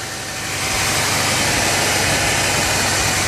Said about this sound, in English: It's a nice, healthy engine.